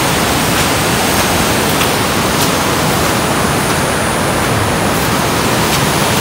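Steady broadband rushing of flowing water, continuous and fairly loud with no pauses, like a river current close by.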